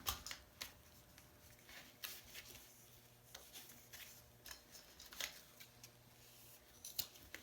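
Scissors snip through twine in a quiet room, a series of short crisp cuts and rustles at an uneven pace, close and faint, with no talking.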